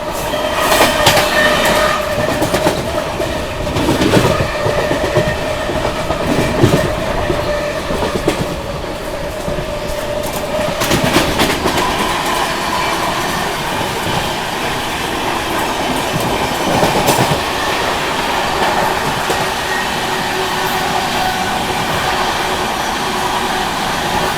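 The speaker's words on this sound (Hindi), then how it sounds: "कोसी कलां रेलवे स्टेशन पे अभी उत्कल एक्सप्रेस लगी हुई है" The Utkal Express passes through Kosi Kalan railway station, a loud, close rumble with clickety-clack wheel beats and brief squeals that keeps on steadily with no talk.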